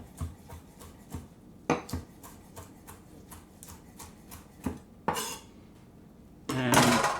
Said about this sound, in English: I've got basil, which I'm going to chop up.